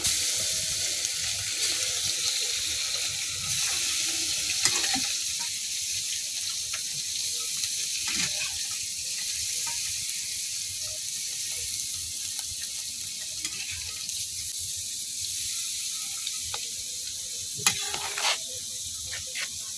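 Shrimp chops made with Chittagong kochu and prawns fry in a wok, giving a steady, fairly quiet sizzle throughout with a few faint clinks near the end.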